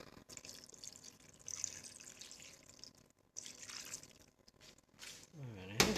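Water poured into a slow cooker holding chicken and long beans, with intermittent splashing and trickling in short bursts, fairly quiet, and a louder rush near the end; a voice murmurs faintly in the background.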